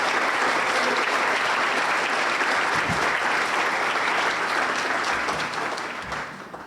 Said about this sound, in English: I think we should give her a special round of applause.